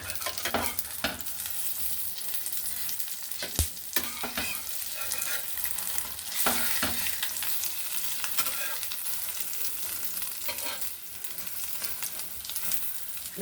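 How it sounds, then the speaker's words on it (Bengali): An egg frying in a pan hisses with a steady sizzle, broken by a few sharp spatula clicks and scrapes as it is stirred and turned. No one speaks. "ডিমটা আমি ভালো করে ভেজে নেব"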